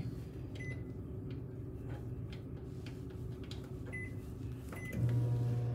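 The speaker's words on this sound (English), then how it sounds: "now I'm curious to check out the microwave oven" A microwave oven hums steadily with faint clicks, then a louder hum and tone kicks in near the end.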